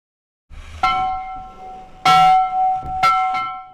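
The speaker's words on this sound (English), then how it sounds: "The bell rings by hand at Shaw Island School." Shaw Island School's hand-rung schoolhouse bell, in use for 136 years, sounds four times in an uneven rhythm. Each clear metallic clang rings out loud and close, then decays slowly with no voices over it.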